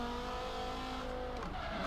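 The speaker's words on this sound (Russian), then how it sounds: "Не очень нравится звук двигателя, если честно." A Cadillac Escalade V8 engine in Forza Horizon 3 gives a steady, humming drone that shifts pitch near the end, as if revving, with no talking.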